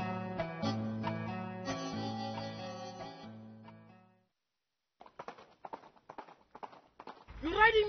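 Music plays first, then after a pause a show-jumping horse's hooves give a few loose, close clip-clop thuds before a voice begins speaking.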